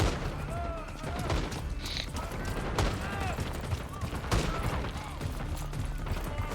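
Gunfire in the video game Black Ops 6: rapid bursts of shots and explosions with mechanical clicks, set under excited voices talking throughout.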